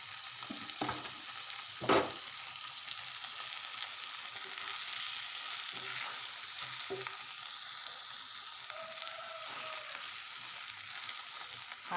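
Moringa leaves frying with masala in a pan, a steady low sizzle with scraping stir strokes and a sharp clink near the start, continuing alone without talk.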